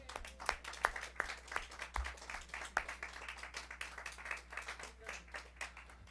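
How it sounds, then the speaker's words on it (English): An audience at a showroom performance claps for the sound engineer, a fairly faint, scattered round of applause with a few sharper individual claps standing out near the front. "give a round of applause to Tim"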